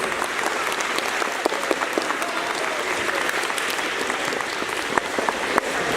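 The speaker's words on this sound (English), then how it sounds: "Can we give the band another round of applause" A school assembly audience applauds the band: sustained, dense clapping from many hands, steady and close, filling the whole stretch with a few sharper claps standing out.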